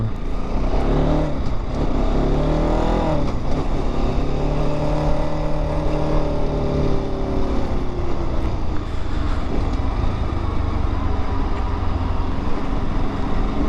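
A motorcycle ridden along a road on a cold, sunny morning while a courier commutes to work. A loud, steady engine drone with wind rumble rises and falls in pitch as the bike accelerates and eases off.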